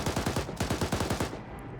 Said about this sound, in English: I'm going to get on the machine gun here.